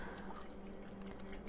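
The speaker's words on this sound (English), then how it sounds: "pour that out." Buttermilk poured from a cup, a soft, low-level trickling and dribbling of liquid that runs steadily for a second and a half.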